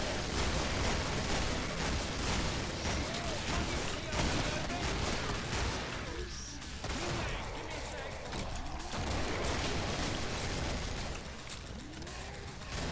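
Gunfire in the video game Killing Floor, a dense, continuous barrage of rapid shots and mechanical clatter over about thirteen seconds, with players talking throughout.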